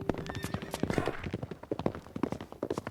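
Horse hooves clip-clop in quick, uneven beats in a cartoon, fairly close and soft, with a faint tonal background.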